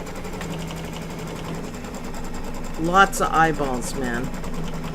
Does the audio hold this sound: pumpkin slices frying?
no